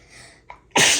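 A single sharp sneeze bursts out loudly near the end, preceded by a brief inhaled catch, against a quiet indoor background.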